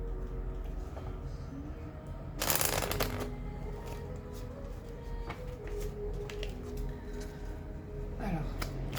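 Angel oracle cards are shuffled by hand close up, a continuous soft riffling and flicking with one louder burst of cards near the start, under a faint steady background.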